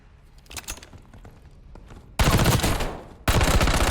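Bursts of gunfire from a Black Ops 6 video game weapon, loud and close, starting with lighter scattered shots and then two dense, sustained volleys of rapid fire with no talk over them.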